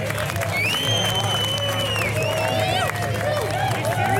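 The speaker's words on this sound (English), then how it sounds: "Give them a round of applause." Crowd applause and cheering at an outdoor BBQ competition awards, loud and continuous clapping mixed with whoops, whistles and excited voices throughout.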